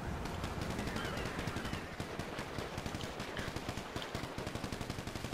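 Rapid automatic gunfire from the video game GTA 5 rattles in long continuous bursts, loud and close, a dense string of shots with no break or speech.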